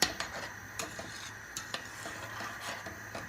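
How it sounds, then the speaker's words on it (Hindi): A spoon stirs curdling milk in a pot as it splits into paneer for rasmalai: soft scraping strokes and occasional sharp taps against the metal over a faint hiss, with no voices. "इसको हिलाते रहना है ताकि ये दूध अच्छी तरह फट जाए और पनीर सेपरेट हो जाए।"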